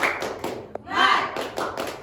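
A sixth-grade elementary class performs a short spirited clapping cheer, a few sharp rhythmic claps and taps mixed with children's chanting voices, close and brief.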